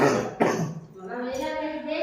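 A single sharp cough bursts out close by, followed by a fainter throat sound and a soft voice over quiet background noise, from someone sick with a cold in a village.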